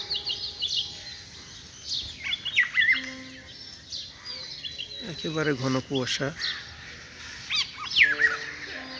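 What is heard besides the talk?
birds chirping in fog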